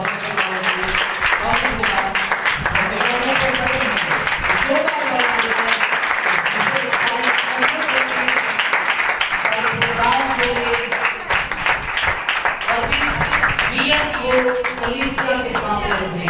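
A congregation at a Sukkot (Feast of Tabernacles) service claps loudly and continuously while voices sing or call out over the applause the whole way through.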